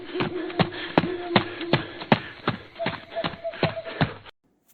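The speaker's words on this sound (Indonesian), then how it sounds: "Hanya suara langkah kaki yang semakin mendekat." Footsteps in a forest for a horror story, a steady run of sharp impacts at a walking-to-running pace, close and fairly loud over a low rumble, stopping abruptly near the end.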